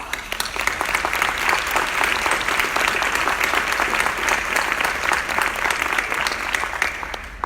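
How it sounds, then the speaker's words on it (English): Sustained applause from a sizable crowd, dense and steady clapping that continues at an even level for several seconds. "Let's give them a round of applause."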